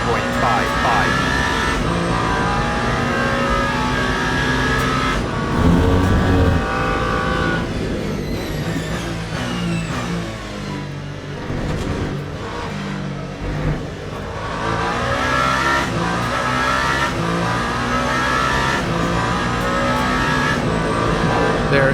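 Race cars in Le Mans Ultimate at the 24 Hours of Le Mans, including a Mustang, with loud engines roaring and revving up and down through gear changes and passing cars. A commentator talks over the engine noise throughout.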